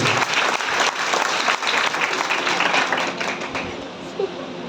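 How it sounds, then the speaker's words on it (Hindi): An audience at a coaching-center gathering in Bihar applauds the arrival of the chief guest. The clapping is dense and close at first, then thins and fades over a few seconds. "जोरदार ताली से स्वागत हो।"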